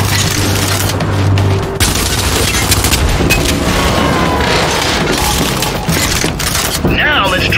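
Gunfire cracks and booms continuously while Guardian robots are shot at in Gears 5 training mode, dense and loud over a rumbling backdrop, with speech heard amid the shooting.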